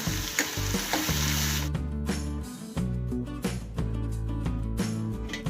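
Turmeric powder frying in a pan for jowar kichadi, a steady loud close sizzle with stirring scrapes that continues throughout and briefly shifts in texture partway.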